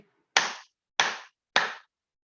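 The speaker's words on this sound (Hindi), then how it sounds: "तो एक बार जोर से ताली" Three loud, sharp hand claps in a quiet room during a webinar exercise session, evenly spaced about half a second apart, each crisp with a short decay.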